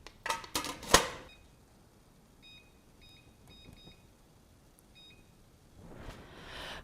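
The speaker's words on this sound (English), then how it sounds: "I set the timer for the 4 minutes" Kitchen timer beeping while being set for a batch of homemade hashbrowns, with short, faint electronic beeps repeating over several seconds in a quiet kitchen after a few louder handling clatters.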